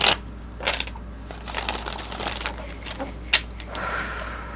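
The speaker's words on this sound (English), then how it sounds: "I'll give one more shuffle and then I'm going to cut for y'all" Tarot cards being shuffled close by, with soft papery riffles and taps coming in uneven bursts, one sharper snap near the end, and no voices.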